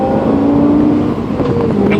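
A Lexus LFA engine pulls hard under acceleration, its loud tone rising through the gears with a brief dip at each automatic upshift, heard from inside the car.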